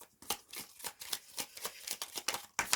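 Tarot cards being shuffled and drawn in a quiet room, a close, soft run of rapid papery riffles and flicks in a quick, steady rhythm.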